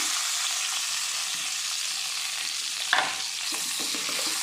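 Chopped onions and tomatoes fry with ginger and garlic in a pan for butter chicken, giving a loud, steady, close sizzle with a single stirring scrape partway through and no voices.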